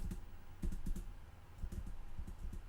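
Computer keys clatter in small irregular bursts of quick taps, close and fairly faint, like someone pressing keys and backspace.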